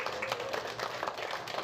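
Applause for married couples at a comedy club show, a brief patter of claps from the audience, moderately faint and fairly even, with no talk over it.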